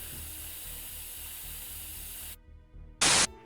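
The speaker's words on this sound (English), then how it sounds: "you can select multiple colors to use with your spray gun too" A steady hiss of a spray gun laying down paint in the Hellshots Golf mod for Doom runs for about two seconds, cuts out, then returns as a short, louder burst.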